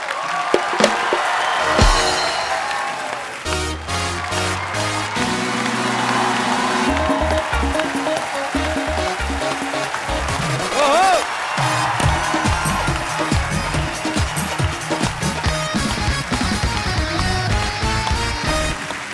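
A studio audience on a comedy talk show breaks into loud applause and cheering with whoops, sustained throughout as music plays alongside.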